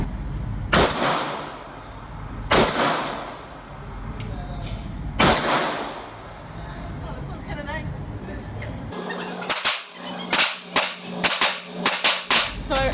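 Three loud, widely spaced 9mm Springfield pistol shots ring out, followed by a rapid string of sharper gunshots in quick succession.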